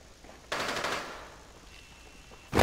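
Gunfire in the video game Rainbow Six Siege, heard as a short, rapid automatic burst lasting about half a second, followed by a quieter lull and then another loud burst starting at the very end.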